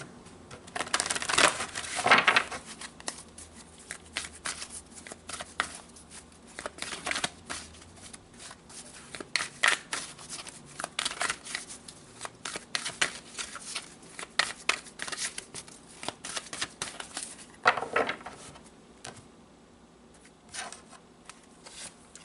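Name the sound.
shuffling tarot cards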